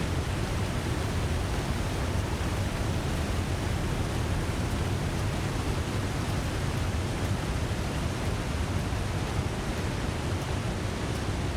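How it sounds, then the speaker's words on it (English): Loud, steady roar of a waterfall in the survival game The Long Dark, a dense, unbroken rush of water filling the whole stretch with no voices over it. "Man, that is one loud waterfall."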